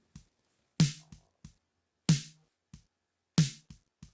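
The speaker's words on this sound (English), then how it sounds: "So this is the snare without compression" A snare drum with no compression is struck three times at an even, slow pace, each sharp crack followed by a quick decay, with soft ghost taps between the hits.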